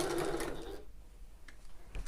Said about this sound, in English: And up this next line all the way to the top, a couple of back stitches again